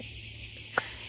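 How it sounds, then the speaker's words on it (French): Cicadas on the Greek island of Cephalonia buzzing in a steady, high, continuous drone, with a brief soft knock partway through. "c'est des... Cigales."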